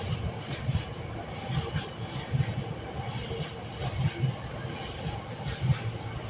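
A Freightliner freight train with a long string of wagons rumbles past on the rails, a steady heavy roar with rhythmic clickety-clack wheel beats pulsing through it, loud and close.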